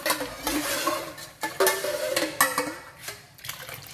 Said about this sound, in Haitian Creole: Je vais mettre un peu de l'eau.